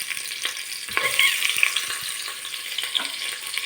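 Ginger, onion and garlic sautéing in a pan for chicken tinola give a close, crackling sizzle broken by several light spoon clicks and scrapes as they are stirred.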